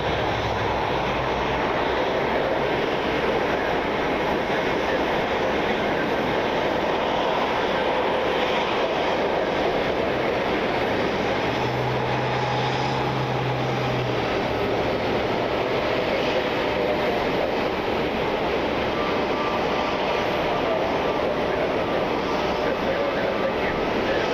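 An airliner taxiing to its gate at Cleveland airport on a rainy night, a steady distant engine rumble and hiss under a constant wash of background noise, with a person talking over it.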